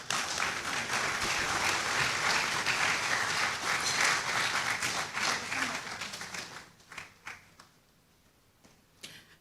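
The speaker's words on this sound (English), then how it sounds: "Let's kindly applaud him once again while he makes his way to his seat." Audience applause at a forum on Ghana's declining fisheries resources, steady and full-bodied for several seconds before tapering into scattered individual claps and fading out.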